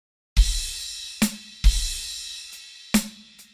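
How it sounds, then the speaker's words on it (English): Drum kit stabs: crash cymbal struck together with the bass drum, four sharp accented hits in an uneven pattern, each crash ringing out and decaying before the next, played alone. "When we're hitting the crash, we're also going to use the bass drum."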